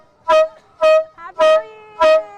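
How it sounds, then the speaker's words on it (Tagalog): A giant pump-action air horn, sold as a New Year noisemaker, gives four loud, separate honking blasts, each pumped out in a short, even rhythm with brief gaps between them. "meron din daw sila ng giant air horn na tulad nito, na binobomba lang"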